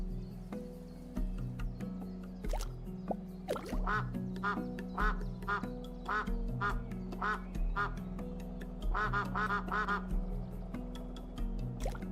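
Goose honks from Untitled Goose Game, a steady run of repeated honking calls over a low constant musical or ambient bed, spaced irregularly across the whole stretch with no talk.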